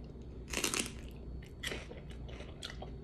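Someone munches celery alongside egg salad, with close, wet crunching bites in a few uneven bursts and quieter chewing between them, no talk.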